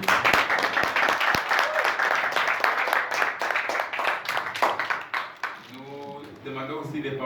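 Clapping from a gathering honoring a person at a French-speaking ceremony, uneven and lively with loud close claps, mixed with talk and cheering voices before fading into speech.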